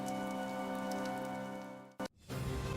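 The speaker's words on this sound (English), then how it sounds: "The rain is really coming down now." Heavy rain in the video game Fire Emblem: Three Houses, a steady wash of rainfall with a low tonal game soundtrack beneath, cut by a brief gap near the end before the downpour resumes.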